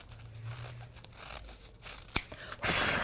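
Scissors snipping through a stack of roughly 10 to 15 tissue paper sheets for a flower wreath, faint close cuts and crinkling with a sharp snip near the end.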